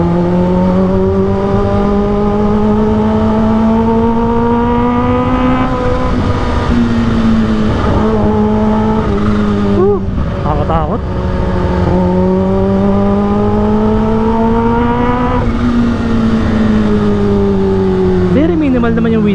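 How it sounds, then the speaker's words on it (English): A supercharged Kawasaki H2 motorcycle at high speed, its engine droning steadily and loudly with rising and falling pitch as it shifts, wrapped in constant wind rush over a helmet, with someone talking over it. "sa ingay naman ng motor natin, it doesn't matter kung may wind noise kasi maingay na yung motor eh"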